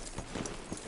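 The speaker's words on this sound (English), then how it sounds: "Hitch your horse up here." Horse hooves clip-clopping in Red Dead Redemption 2, a steady run of close, moderately loud hoof beats on the ground, heard alone without talk.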